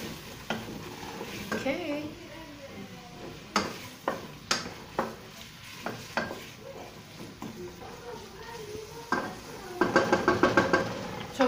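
Chopped leek with a dash of salt sautéing and being stirred in a pan, with scattered scrapes and clatters of the utensil over a low sizzle and a brief spoken word.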